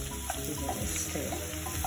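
Courgette, onion and ginger sauté in a hot pan while being stirred, giving a steady close sizzle and crackle with soft scraping bursts from the stirring, and no talking.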